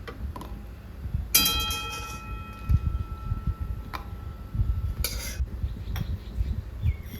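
Fried dried red chillies being tipped from a pan into a metal bowl, heard as sharp clinks and scrapes of utensils against metal, with a bright ringing clang and scattered light ticks over a low sizzling background.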